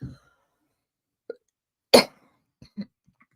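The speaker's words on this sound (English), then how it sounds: "So what if I have a coughing attack?" One sharp cough bursts out mid-clip, surrounded by a few faint throat clicks and breaths in an otherwise quiet room.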